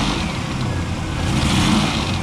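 A stealth van's engine runs after a tune-up, a loud, steady, close mid-pitched drone with a slight lift in revs toward the end and no talk over it.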